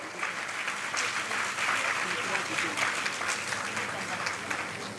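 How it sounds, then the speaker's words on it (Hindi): An audience at an award ceremony for teachers claps together in a steady, continuous round of applause that fills the whole five seconds without cheering. "और सब अपने लिए ताली बजाएं।"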